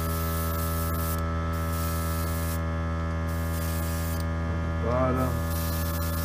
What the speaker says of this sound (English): There's that compressor again.